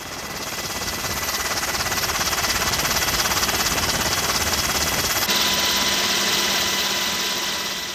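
Firefighting helicopter working over a dry, windy wildfire, its rotor and engine producing a loud, steady broadband roar with rhythmic chopping throughout, the tone shifting partway through without any speech.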